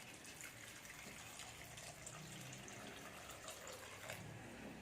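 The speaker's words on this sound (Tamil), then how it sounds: "கொஞ்சமாக கருவேப்பிலையும் போட்டுட்டு இது வேகிறதுக்கான தண்ணியை ஊற்றிக்கலாம்." Water is poured steadily into a cooking pot to boil jackfruit seeds for a Malabar-style raw mango curry, a continuous soft gushing stream with no talk over it.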